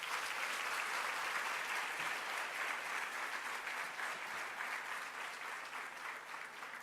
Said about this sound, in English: We can give those recipients a round of applause